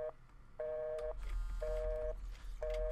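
A telephone busy signal sounds as evenly spaced beeps, each about half a second, repeating at a steady rhythm over a low background rumble, fairly faint and alone.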